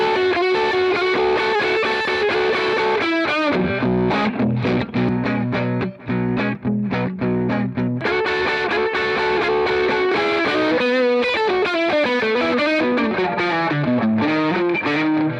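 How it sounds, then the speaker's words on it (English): Electric guitar on the neck pickup through an Eddie Boost drive pedal, playing a continuous run of overdriven chords and melodic lines, loud and close with no talking. "This actually might be my favorite setting so far for this guitar."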